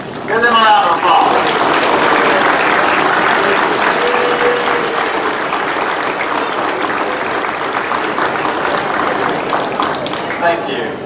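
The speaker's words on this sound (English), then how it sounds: "Give them a round of applause." Graduates at a TCAT Shelbyville spring graduation ceremony turn and applaud the audience behind them. Loud, sustained applause runs through the whole stretch, with a few raised voices mixed into the clapping.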